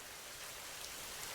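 Heavy rain pours down on an open courtyard, a steady dense hiss filling the whole stretch at an even level with no voices.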